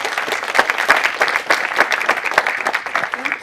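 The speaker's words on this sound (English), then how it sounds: "So please give her a warm round of applause." A tech event audience applauds a presenter being called to the stage, a lively, close burst of many hands with distinct individual claps, steady for a few seconds.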